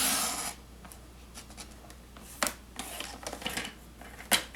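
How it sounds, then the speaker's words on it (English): A paper trimmer blade slides through cardstock up to a score line, giving soft rasping strokes and a few sharper scrapes and clicks close by in a quiet room. "move the scoring blade out of the way, we're going to trim up to that score line"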